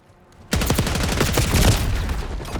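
Sudden burst of loud, rapid automatic gunfire in Call of Duty Black Ops 6 that starts abruptly and keeps going as a dense volley.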